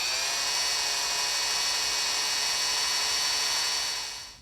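A drill bores a pilot hole down the center of a broken bolt stud while a small-block Ford and five-speed go into a 1966 Bronco. The steady, high-pitched whine runs alone and close, then fades at the end.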